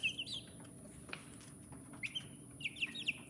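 Young chicks peep in short, high, rising chirps, a few bursts at the start and a cluster near the end, fairly close over a faint steady background hiss.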